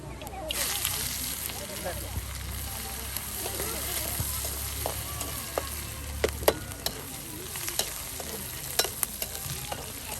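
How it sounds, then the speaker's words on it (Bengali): Leafy greens fry in plenty of oil with chillies at an outdoor riverside cooking spot, a steady close sizzle with scattered stirring clicks and scrapes, while people talk over it. "এখানে শাক ভাজি করা হবে।"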